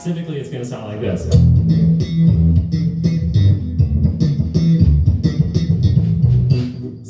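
A slap bass riff plays loud and busy, with dense percussive plucked notes and popping attacks running steadily for about seven seconds, no talking over it.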